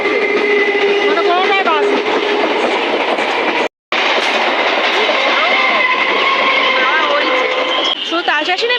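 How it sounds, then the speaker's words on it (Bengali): A train rumbles and clatters past nearby at a railway station, a steady rolling roar with brief gaps, while voices and a public announcement carry over it. "একদিকে ট্রেন একদিকে অ্যানাউন্সমেন্ট"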